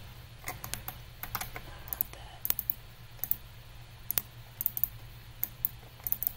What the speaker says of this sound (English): Double click that.